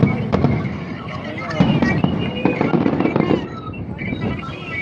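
New Year fireworks pop and crackle in scattered bursts at a distance while people chat nearby.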